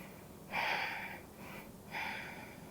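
Two deep, audible breaths are drawn in close to the mic, each a loud rushing inhale followed by a quieter release, with no talking.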